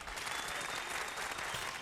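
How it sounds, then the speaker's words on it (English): A short burst of applause from a small group, a steady even patter of clapping at a modest, somewhat distant level with no talking over it. "That deserves a round of applause."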